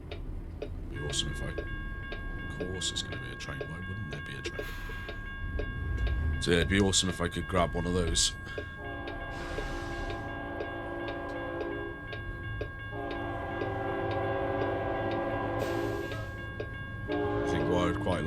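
A train in American Truck Simulator, a horn blaring in long steady blasts over rumbling, clattering railcars, with a rapid ticking running alongside and someone talking over it.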